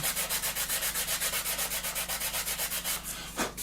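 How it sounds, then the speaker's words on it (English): A fine-grit sanding stick rubs back and forth over a plastic 1/32 scale F-14D Tomcat model, close, rapid and evenly rhythmic strokes, about eight per second, with no speech. "they're taking out all the scratches you make with the previous grit, then in with the fine"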